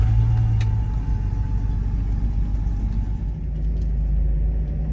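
A heavy truck engine starts and rumbles steadily at close range, a deep continuous drone with a slight rise in revs, no voices over it.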